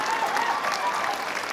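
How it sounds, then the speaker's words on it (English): An audience at a Native American comedy show breaks into applause, a dense and steady roar of clapping from a sizable crowd that holds at an even level throughout. "You know, all the Native people clapping,"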